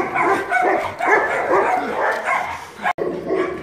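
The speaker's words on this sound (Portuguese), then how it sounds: "Vira-lata ali latindo." A mixed-breed dog barks repeatedly, somewhat distant, amid a noisy, echoing kennel background with other dogs, American Bullies and Staffordshire Terriers, stirring.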